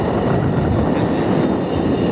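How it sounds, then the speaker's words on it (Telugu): A slow-moving train rumbles steadily with a low, continuous roar, close by and fairly loud, with no voices over it. "ఇప్పుడు ప్రజెంట్ ట్రైన్ మాత్రం స్లోగా వెళ్తుంది ఇక్కడ"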